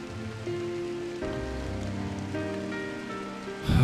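Light drizzle in the video game Drizzlepath Genie falls as a soft, steady hiss of fine drops under sustained music, ending in a brief louder swell.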